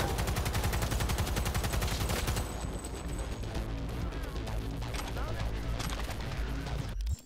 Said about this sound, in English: Yeah, I hate light machine guns.